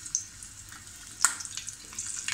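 Onion frying in oil for misal gives a soft, close sizzle with a single brief clink of a utensil partway through, low and steady.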